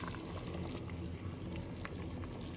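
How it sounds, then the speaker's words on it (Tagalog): Food boils in a cooking pot with a steady, continuous bubbling and churning that holds at an even level throughout, with no clear talk over it. "Ayan, malapit na. Kunting kulo na lang."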